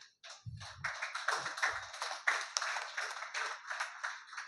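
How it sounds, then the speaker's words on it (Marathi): An audience claps at a felicitation ceremony, a lively spread of hand claps that builds quickly after a few low thumps and stays steady, fairly close. "टाळ्या वाजा भरपूर"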